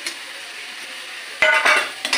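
Fried baby corn goes into a pan of sizzling spices: a quiet, steady sizzle, then several close scraping and clattering stirs of a spatula against the pan.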